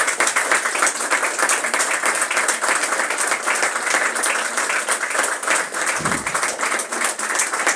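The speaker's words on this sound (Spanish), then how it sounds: "A ver el aplauso, escuchamos el aplauso." Sustained audience applause at a plaque unveiling for the remodelled Centre for Arab Studies at the University of Chile, dense and steady clapping from a crowd throughout, loud and close.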